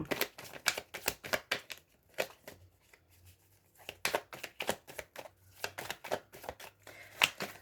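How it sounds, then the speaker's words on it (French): Tarot cards are handled and laid down with a run of sharp, quick taps and shuffling snaps, close and fairly quiet, with a brief pause partway through. "Je vais quand même la recouvrir, cette carte-là."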